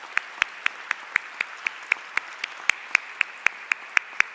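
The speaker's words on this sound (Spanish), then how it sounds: "yo pido un aplauso por su extraordinaria labor" Audience applause at a Chilean early-childhood education anniversary event honoring Victoria Peralta, heard as a thin, regular series of sharp claps, steady and fairly faint, with no talking over it.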